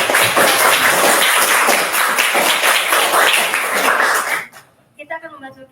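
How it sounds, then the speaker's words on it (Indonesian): Audience at a school IT seminar gives a burst of clapping lasting about four seconds, fairly close and full, then it cuts off and a voice begins speaking. "boleh berikan tepuk tangan sebagai apresiasi"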